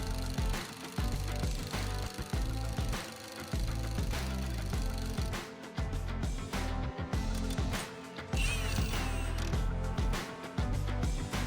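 A Milwaukee power tool works studs into truck tires, producing rapid ratcheting, clicking bursts with short gaps, close and loud.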